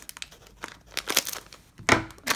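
Crinkly plastic blind box packaging is torn and opened up close in a series of sharp crackling bursts and rustles, with short pauses between handfuls of crumpling.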